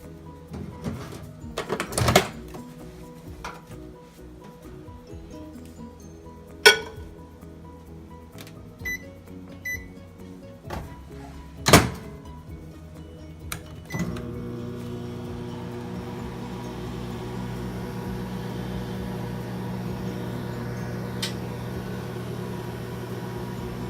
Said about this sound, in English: I'm going to just pop that in the microwave.